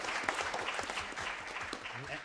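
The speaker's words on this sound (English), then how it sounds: "A round of applause for the audience." Applause from a conference audience in Ottawa, a broad steady wash of clapping at moderate level with a few voices murmuring underneath.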